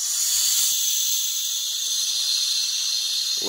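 Compressed air from an air compressor hisses steadily into a Harbor Freight 110 lb pressurized abrasive blaster as a valve is opened, a loud, continuous broadband rush with no voices.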